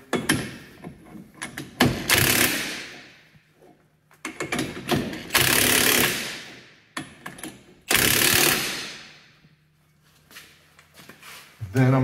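An impact wrench rattles in loud bursts of roughly a second or two each, four times, driving ring gear bolts on a Jeep Wrangler Rubicon Dana 44 axle, with quieter handling noises and brief talk between bursts.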